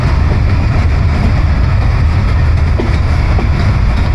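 The Dhumketu Express passenger train runs with a loud, steady broadband rumble and roar, continuous and close, with no voices.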